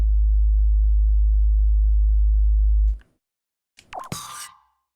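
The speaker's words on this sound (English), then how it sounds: "That's the sine wave, which is the smooth bass." Smooth sine-wave bass note from the LittleBigPlanet music sequencer, a low, pure, steady tone held for about three seconds before cutting off, followed by a brief unrelated blip.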